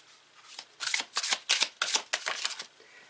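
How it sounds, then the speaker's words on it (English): Silver-edged tarot cards are riffled and shuffled in a quick series of crisp, close bursts, about seven flurries in a row with no talking. "And they shuffle really nice too."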